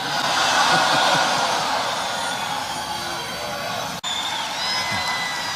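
A large political rally crowd roars and cheers continuously, a dense sustained wash of voices and shouts that stays loud throughout, with only a momentary dip near the end.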